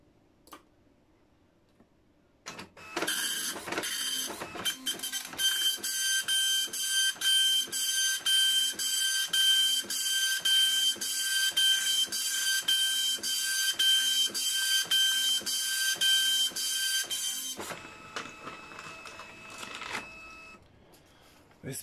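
A dot matrix printer prints a test page at 360 by 180 dpi, giving a loud, steady, rapid buzzing rattle with rhythmic head passes for about fifteen seconds before it stops, followed by a faint lingering tone.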